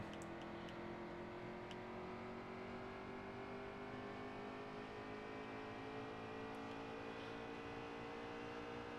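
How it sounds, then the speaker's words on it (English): Race car engine in the NASCAR Heat 3 video game, droning continuously at steady volume with gradually shifting pitch as it downshifts into third gear, no talk. "Oh, don't go down in the third gear, dang it."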